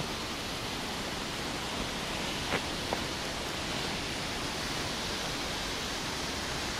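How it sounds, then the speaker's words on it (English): A steady rush of falling water from a waterfall in a wooded glen on the Isle of Man fills the scene, a constant broadband roar at moderate distance with a couple of faint clicks. "The noise you can hear is the old waterfall just above the playground."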